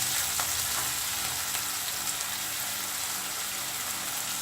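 Paneer cubes frying in a pan for chili paneer, giving a steady, even sizzle that holds at constant loudness throughout with no voices.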